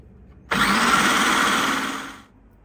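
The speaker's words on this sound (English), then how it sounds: "just got to put it in a chopper blender and chop it all up" A chopper blender whirs loudly as it chops spinach for a coconut chicken curry, a steady motor roar starting abruptly, running about two seconds, then cutting off.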